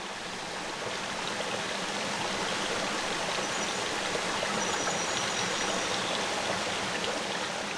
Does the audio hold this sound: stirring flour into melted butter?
no